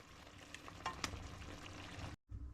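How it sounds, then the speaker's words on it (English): Juice being stirred into cooked egg noodles, a wet, sizzling, squelchy mixing with a few soft clicks, cut by a brief silence near the end. "we're going to start mixing that juice in with the egg noodles"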